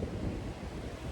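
Wind buffets a microphone on a beach, a low continuous rumbling gust throughout the short moment, loud and close.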